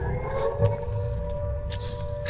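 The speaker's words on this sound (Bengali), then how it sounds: "সাইরেন বাজছে কোথা থেকে কোথাও তো বাজানো হচ্ছে সাইরেন" A siren sounds in the distance near Cooch Behar palace, a steady, sustained wail that holds for the whole moment over outdoor background noise.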